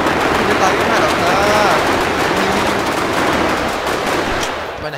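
Rapid, sustained automatic gunfire in a Minecraft zombie survival mod, loud and continuous for the whole stretch, with a voice talking over the shooting.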